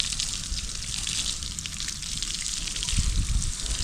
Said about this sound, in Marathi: आता स्लॅबला हे पाणी आपण इथे भरून ठेवायचं आहे